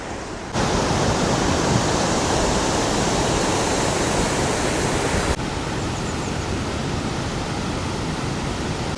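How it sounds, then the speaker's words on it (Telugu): A small waterfall's steady, dense rush of falling water roars continuously, close and loud, with no voices. "ఇక్కడ మెయిన్ వాటర్ ఫాల్ అనమాట చాలా చిన్నదే"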